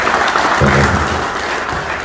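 An audience at a seminar gathering in Cirebon claps, producing a short burst of dense applause with a faint low murmur underneath.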